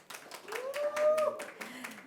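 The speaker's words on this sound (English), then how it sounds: "please give them a big round of applause" Applause at the Filmfare OTT Awards 2024 press conference: a scattering of hand claps comes through under a speaking voice, loosely spaced rather than a dense ovation.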